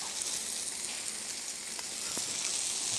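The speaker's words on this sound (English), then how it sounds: "and put our Brussels sprouts. A little pat of butter on that." Brussels sprouts frying in oil with a pat of butter on a Blackstone griddle give off a continuous, even hiss of sizzling, close and fairly loud, with a couple of faint ticks.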